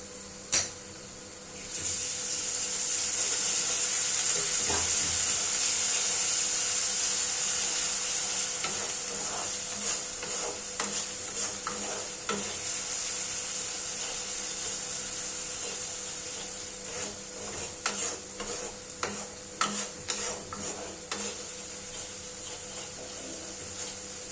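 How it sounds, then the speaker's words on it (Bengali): Onions frying in a pan as ginger and garlic paste goes in, a steady hiss of sizzling that swells early, then gives way to a run of scraping stirs and taps toward the end, close and moderately quiet, no talking. "পেঁয়াজটা কিছুটা ভাজা হয়ে গেলে এবার তাতে আমরা আদা এবং রসুনের পেস্ট দিয়ে দেব"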